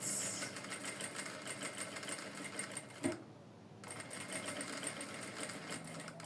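A sewing machine stitches a seam on fabric, running in a steady rapid mechanical whir close by, with a short pause and a click near the middle before the stitching resumes.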